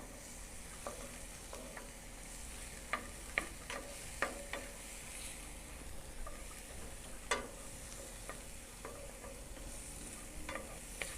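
Onions and garlic frying in a pan, a soft steady sizzle with scattered clicks and taps of stirring, fairly quiet and close, no talking.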